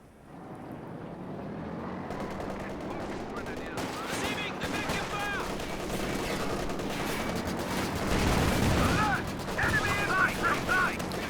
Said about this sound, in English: They're being suppressed though by that, what's that, MG34?